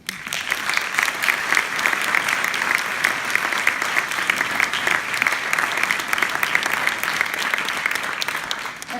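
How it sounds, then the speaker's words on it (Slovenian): Warm, sustained applause fills a hall at a ministerial reception honoring young winners of international knowledge competitions, dense clapping from a sizable audience holding steady for several seconds, without speech. "en poseben poklon in aplavz"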